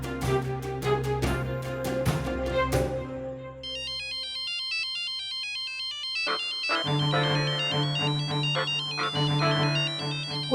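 An electronic phone ringtone melody plays continuously, looping a bright tinkling tune with a fuller synth section partway through, with no voices.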